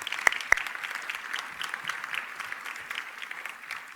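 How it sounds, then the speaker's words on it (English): Moderate applause from a seated audience at a speaking event, an even patter of clapping after two sharp near claps at the start, fairly soft and unaccompanied by speech. "Let's give her a round of applause."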